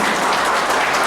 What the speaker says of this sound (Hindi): जोरदार ताली से इनका स्वागत करेंगे।